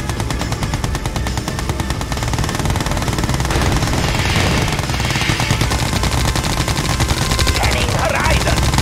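Full-auto machine gun fire in Red Alert 2 Yuri's Revenge: a continuous, rapid, loud rattle of shots running the whole time, with faint background unit voices mixed underneath.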